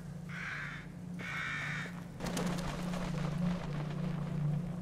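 Crows caw in the horror game The Evil Within, two harsh calls close together near the start, followed by rushing, crackling ambient noise.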